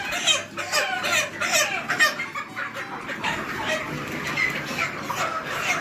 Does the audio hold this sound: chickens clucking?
yes